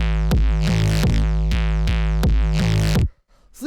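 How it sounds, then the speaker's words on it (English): A raw electro electronic kick drum and bass play together in a steady groove, deep booming thumps of about eight hits locked with a buzzy bass line, loud and up close, stopping suddenly into near silence. "The next thing that we have here is the kick and the bass, which together sound like this."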